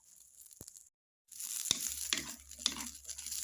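Dry chili peppers roasting without oil in a pan, with a brief quiet gap before rough scraping and rattling of stirring, punctuated by a few sharp knocks, close up and with no talking.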